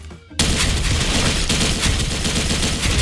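Sustained automatic fire from an RPK74 machine gun in the game Special Force 2, a loud continuous burst of rapid shots that starts abruptly after a brief quiet moment and runs unbroken to the end.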